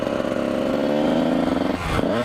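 Kawasaki KX 125 dirt bike engine droning steadily close by with the clutch held in, its pitch wavering and dipping near the end, loud and continuous with no talk.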